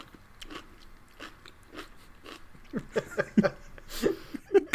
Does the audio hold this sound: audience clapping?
no